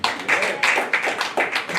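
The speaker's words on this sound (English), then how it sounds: "let us give a clap offering to God" A few people clap in a quick, uneven rhythm, close by at a church summit, with short bursts of hand claps repeating throughout.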